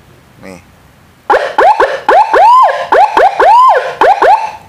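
Electronic motorcycle siren module cycling through one of its 12 tones, loud close rapid rising whoops repeated in quick succession after a short faint chirp.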